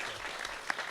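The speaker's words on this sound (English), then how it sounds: "Give him a round of applause." A brief burst of clapping from a crowd, short and moderately loud, fading quickly.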